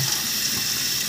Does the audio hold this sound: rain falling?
no